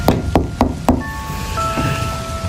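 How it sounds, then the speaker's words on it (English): Four sharp knocks on a door in quick succession, fairly close, followed by a faint electronic tone in a quiet room. "all of a sudden I heard a knock on the door"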